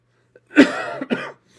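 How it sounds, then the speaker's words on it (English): Two harsh coughs close to the mic, a longer chesty one followed by a shorter second burst, with quiet around them. "Forgive me again. for the annoying cough"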